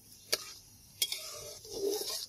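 Tempering spices and mustard seeds fry in oil for coconut chutney: two sharp utensil clicks against the pan, then a soft, rising sizzle, quiet and close.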